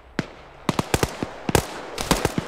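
Sharp bursts of video game gunfire crack in an irregular rhythm, some isolated shots and some quick doubles, loud and close.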